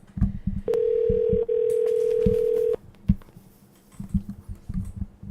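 A telephone dial tone hums steadily for about two seconds with a brief break, surrounded by clicks and taps as a call is placed back, with no voices.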